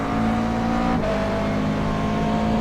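A McLaren MP4 GT3 race car in the iRacing simulator at Sebring howls at full throttle, with a loud, continuous engine note that dips for a quick upshift before it climbs again.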